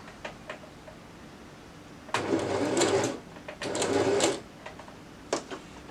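Sewing machine stitching a fabric seam toward a corner, two short close bursts of rapid mechanical whirring separated by a pause, with faint clicks and handling noises around them.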